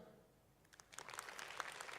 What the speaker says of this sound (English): Clap if you're a cat person.